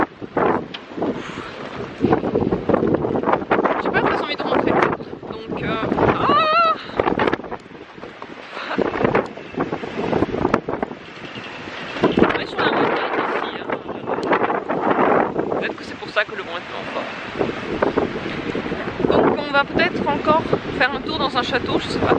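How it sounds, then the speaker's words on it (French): Gusty wind from a storm buffets the microphone in loud, rumbling bursts, with people talking underneath the roar, at a hotel in strong wind. "Il y a beaucoup de vent."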